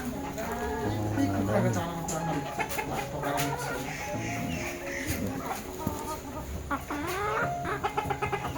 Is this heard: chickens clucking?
yes